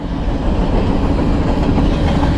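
A train rumbles past close by, giving a loud, continuous roar of wheels on rails with a faint rhythmic clatter and no voices.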